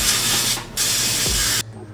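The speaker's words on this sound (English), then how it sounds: "I'm also greasing the peppers right now." Olive oil sprayed onto peppers in two short bursts, a steady close hiss that pauses briefly between them and then cuts off sharply.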